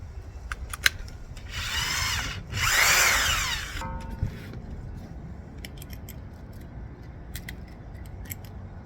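A power drill bores 2-inch holes around the outline of a 7-inch pipe opening for a Cubic Mini install, in two sustained loud bursts of grinding, followed by quieter scattered clicks and taps.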